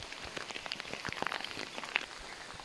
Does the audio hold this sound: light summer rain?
yes